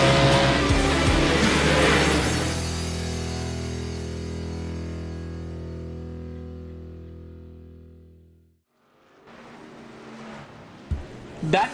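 Sim race car engines at Darlington Raceway in a racing game, starting as a loud close roar that fades steadily as the car pulls away. After a short gap the engines and a commentator's voice come back.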